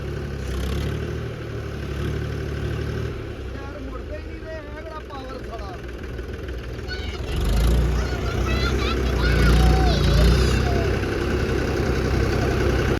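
A tractor stuck in a field during wheat sowing, its engine running steadily with a low rumble that swells louder toward the end, heard close beneath voices talking.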